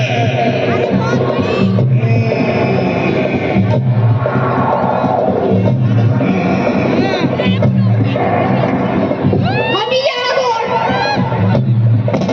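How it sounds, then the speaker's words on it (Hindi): Large crowd at a Ramlila performance in Pauri, depicting Sita's swayamvar, a dense continuous roar of babble, children's shouts and cheering with bursts of whoops, loud and steady throughout, voices overlapping with music-like tones. "बड़ी भीड़ है।"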